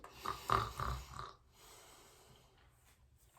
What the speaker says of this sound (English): my grandfather snoring